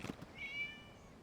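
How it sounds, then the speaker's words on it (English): A cat meows once inside the Genshin Impact video game, a short rising and falling call set against faint background ambience. "It was just a cat."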